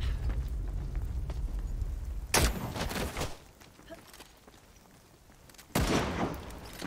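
Gunfire in The Cycle: Frontier during a PvP fight at Admin: two loud, sharp bursts of shots a few seconds apart over a continuous game background.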